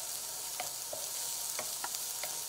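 Onion and garlic fry in a pan with a steady, even sizzle, broken by a few soft scraping stirs at close range.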